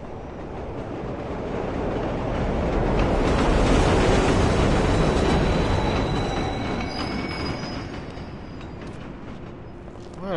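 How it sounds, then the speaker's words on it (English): A train in The Warriors video game rolls along in a loud, broad rumble that swells toward the middle and eases off, with thin metallic wheel squeal running high above it near the end. "Why are we always getting on this train?"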